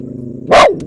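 One loud, close bark from a dog reacting to someone walking by, a single sharp burst over a low steady background hum.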